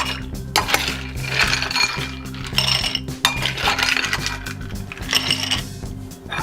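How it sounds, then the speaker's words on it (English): Ice cubes clatter and clink into a glass for a Japanese-style Old Fashioned cocktail in bursts of close, bright, rattling knocks, with no speech. "Next, we're going to add some ice."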